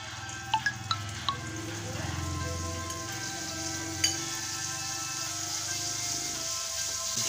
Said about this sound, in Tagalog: So let's start to fry.